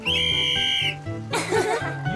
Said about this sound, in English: Oh, but Polly, tell me again what the whistle's for.